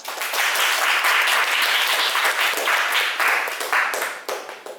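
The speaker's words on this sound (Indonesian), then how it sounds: "Oke, tepuk tangan" A crowd of people applauding steadily, dense overlapping claps that hold for several seconds before thinning out slightly toward the end.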